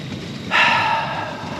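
Sled dogs on an Arctic taiga dog sledding trip let out a single short bark or yip partway through, moderately close over steady outdoor background noise, with no voices.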